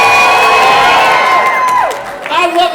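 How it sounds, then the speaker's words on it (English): Audience at the Creativation 2020 awards cheering loudly, with whoops and shouts over clapping in a short, dense burst that dips briefly and then swells again. "I love a cheer at the beginning of an event"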